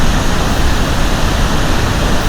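The Rhine Falls pour down in a loud, close, unbroken roar of rushing water, a dense wall of sound with no voices.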